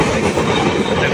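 A Bengali superfast express train, the Bengaluru to Guwahati Express, thunders past up close on the line toward Bardhaman, a loud continuous rumble with wheel clatter.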